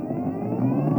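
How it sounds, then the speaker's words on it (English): A steady, low electric whir with a faint rising hum, smooth and continuous, close by, with no voices. "Is that your electric scooter?"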